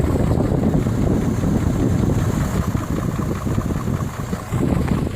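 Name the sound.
car electric cooling fan blowing hot air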